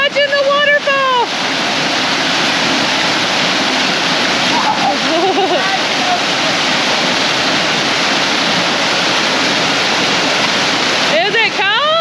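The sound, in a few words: waterfall in Georgia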